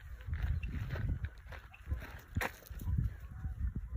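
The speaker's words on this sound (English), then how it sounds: "It's a Canada goose." A Canada goose honks several times outdoors on an island walking trail, with loud, uneven calls rising and falling across the clip, fairly close, and no speech.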